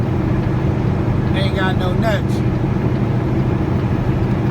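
A semi truck with a big Cummins engine drives under load, giving a constant loud low rumble throughout, while a voice speaks briefly over it partway through.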